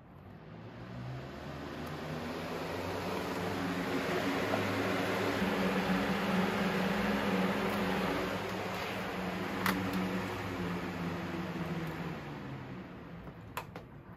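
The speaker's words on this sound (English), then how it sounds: "And turn the fan back on" A steady electric fan blows continuously, drying a batch of washed Lego bricks, with a constant broadband whoosh and low hum throughout, fairly close and unchanging, with a couple of faint ticks near the end.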